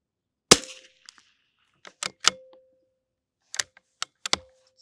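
A rifle at a shooting range fires Eley Ultra Extreme Gen 2 ammunition at a 100 target, giving several sharp, dry cracks in irregular spacing with smaller clicks between, close and crisp in otherwise quiet air.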